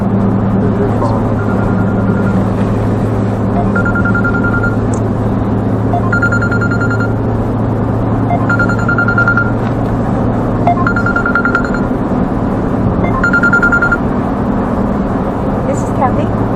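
A phone rings repeatedly in evenly spaced, bright electronic trills over a steady low hum, while people talk nearby.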